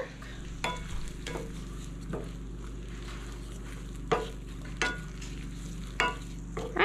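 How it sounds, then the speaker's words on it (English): Onion cooking low and slow in butter in a pot for stuffing, a steady soft sizzle underneath with occasional stirring scrapes and clinks spaced through the clip. "Let the onion flavor that butter and let that butter cook the onion"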